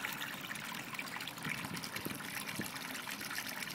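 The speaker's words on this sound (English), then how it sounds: "the water level is just draining down" Water drains out of an aquaponics bell siphon into a mesh pot, giving a continuous close trickling and gushing sound with small bubbly splashes throughout, steady in level and without speech.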